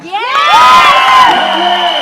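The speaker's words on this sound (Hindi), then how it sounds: "इनको याद रहनी चाहिए ये तालियां और सीटियां" A loud, close crowd at a film trailer launch cheers for a first-time director, with shrill whoops and whistle-like tones rising and holding over a dense roar of shouting voices.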